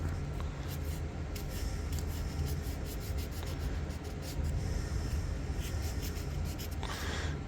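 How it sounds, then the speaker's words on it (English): Sandpaper rubs down the rusty metal blades of a folding knife, a continuous close-up scratchy rasp with faint rhythmic strokes and a slightly brighter scrape near the end, no voices. "we can take our sandpaper and just put it right down in here."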